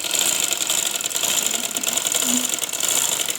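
A sewing machine stitches a folded shirt cuff with a black strip, running in a continuous fast mechanical whirr with rapid needle clatter, close and steady throughout with no voices.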